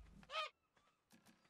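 A dodo squawks in ARK Survival Evolved, one loud, harsh, crow-like caw followed by a few softer, shorter clucking calls nearby.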